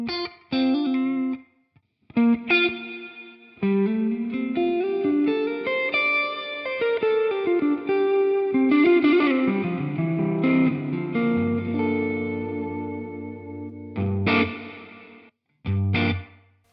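An electric guitar plays through a ToneX One pedal set with reverb, with an H90 in the effects loop, giving distorted chords and melodic lines with chorus shimmer and reverb tails, alone and separated by short pauses.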